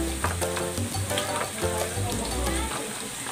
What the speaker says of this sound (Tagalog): Igisa na natin itong Baguio beans.